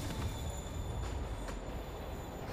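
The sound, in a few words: train moving on rails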